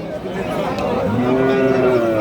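Bull calves of assorted farm-suited breeds at Khochabari haat, a cattle market in Thakurgaon district, with one long, low moo swelling up midway over a steady market murmur.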